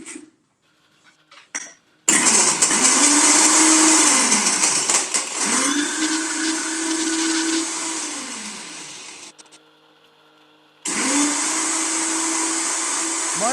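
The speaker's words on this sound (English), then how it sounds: "My blender doesn't really sound like it's working too hard" An electric blender mixes cocktail drinks in loud, steady motor bursts that whir up and settle. A brief pause comes before the final burst starts up again.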